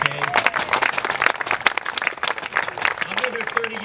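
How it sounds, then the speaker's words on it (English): A crowd at a community center dedication ceremony for Kay Dahill claps in close, lively applause lasting a few seconds, with voices audible beneath the clapping. "I just want to clap for you, Kay"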